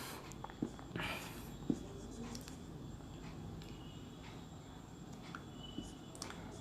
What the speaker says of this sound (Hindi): तो वो डेफिनेशन लिख लेते हैं, मैं यहां पर लिख देता हूं।